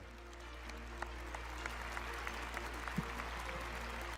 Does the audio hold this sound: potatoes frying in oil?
no